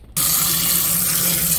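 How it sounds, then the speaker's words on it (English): A kitchen tap is opened and cold water gushes over pork ribs in the sink, starting abruptly and then holding a loud, steady splashing rush with no voices. "I wash the ribs with the cold water."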